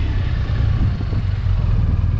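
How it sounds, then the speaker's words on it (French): A BMW R1250RS motorcycle engine runs with a loud, steady mid-range drone and rumble, likely heard while riding, without talk. "Le moteur est très punchy"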